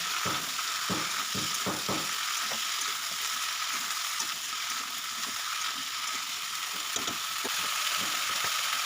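Vegetables frying in oil in a pan for vegetable khichdi, a constant bright sizzle with irregular clicks and scrapes of a spoon stirring, close and steady, no voices.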